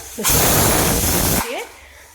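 Pressure cooker loudly venting steam while masala rice cooks, a steady broadband hiss lasting about a second before tapering off, with brief voice fragments just before and after.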